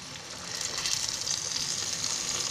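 Bitter gourd (karela) slices fry in a hot pan, a dense, even sizzle that holds steady and close throughout with no voices.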